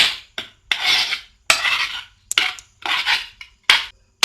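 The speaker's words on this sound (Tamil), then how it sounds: "இப்போ இதையே இதோடு சேர்த்து நல்லா மிக்ஸ் பண்ணிவிடுங்க." Crushed biscuits being stirred into a chocolate pudding mixture in a bowl, heard as a string of close, raspy scraping strokes separated by short silences, with no one talking.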